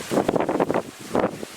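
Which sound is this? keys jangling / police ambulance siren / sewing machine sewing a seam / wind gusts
wind gusts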